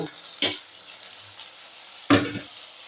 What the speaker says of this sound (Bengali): তরকারিগুলো আমি সব দিয়ে দিচ্ছি এখন লাড়া দিব